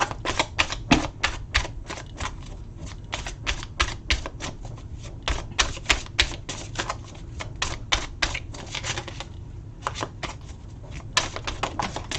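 Tarot cards being shuffled during a live tarot reading: a long run of rapid, crisp riffling clicks in uneven bursts, close and steady throughout, with no talking.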